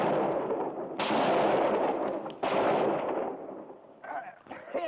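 Gunshots fired near bait from a boat: two sharp, loud reports with long rumbling tails, then a third blast and shouted voices at the end.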